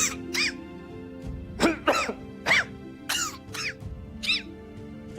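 A person with a mild cold and fever coughs repeatedly, six or seven short harsh bursts with throat clearing, close and fairly loud, spread over a few seconds.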